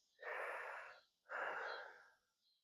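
Two slow, deep breaths during a hip and lower back stretching routine, each a long airy inhale or exhale lasting about a second, close and clear, with a faint third breath trailing at the end.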